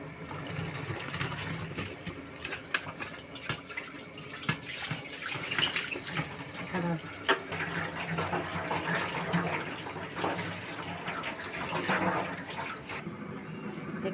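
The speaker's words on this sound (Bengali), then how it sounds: "এই কলিজিগুলো আমি খুব সুন্দর করে পরিষ্কার করে ধুয়ে নিচ্ছি।" Running water rinsing pieces of beef liver in a bowl, a continuous splashing and trickling wash with soft clatter, moderately near, no talk.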